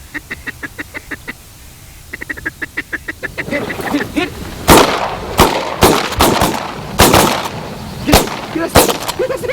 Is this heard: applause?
no